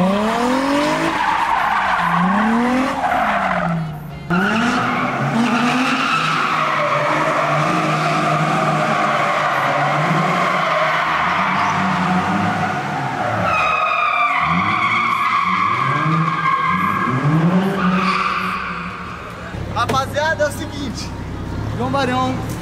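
A car drifts with long, rising and falling tire squeals and skidding screeches, the engine revving between them, loud and close, while people talk and shout nearby.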